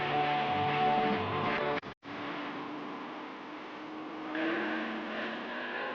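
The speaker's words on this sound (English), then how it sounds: "a gas class coupe runs a time trial with a Class A supercharged coupe" A gas class coupe and a Class A supercharged coupe make a drag racing time trial; a loud, continuous engine roar dominates, with a momentary dropout before the roar resumes.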